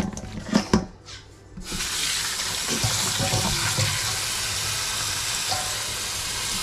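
A kitchen tap is turned on and runs in a steady, close hissing stream while something is washed, following a few clattering knocks and a short pause.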